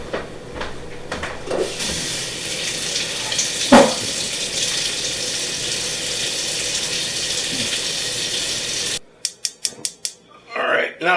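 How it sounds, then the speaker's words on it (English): Water poured into a pot to steam asparagus, a running splash under someone talking, with clattering kitchen knocks and a few sharp taps near the end. "I'm going to put some water in,"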